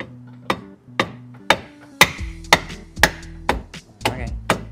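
A hammer strikes a part while fixing up a car, around nine sharp metallic blows in an uneven rhythm, close and loud, with short gaps between hits.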